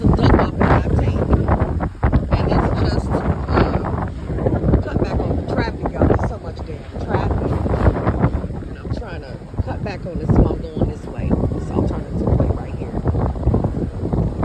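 Strong wind batters a handheld microphone outdoors in a Florida neighborhood among swaying palm trees, a loud, constant roaring rumble that barely lets up across the whole stretch, with faint voices underneath.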